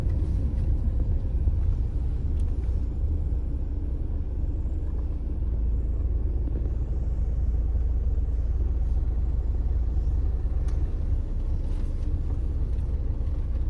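A vehicle moving along a road during a night safari at Bandhavgarh, heard as a steady, loud low engine rumble from close by, with faint higher clicks and no clear speech.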